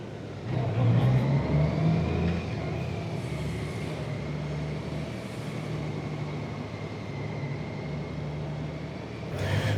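Motorcycle engine humming and revving steadily while riding through Chinatown in New York City, with continuous traffic rumble around it and no break in the drone.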